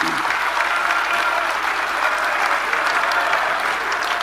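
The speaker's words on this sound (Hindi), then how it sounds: "हम सभी एक बार तालियां बजाकर अपने प्रधानमंत्री मोदी जी का अभिनंदन करें" A large crowd at a political rally applauds steadily for a prime minister, dense sustained clapping filling the whole stretch at an even, loud level with no talk over it.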